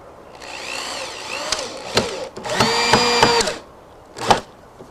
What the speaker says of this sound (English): you want to just put one more screw in the end here to hold it into place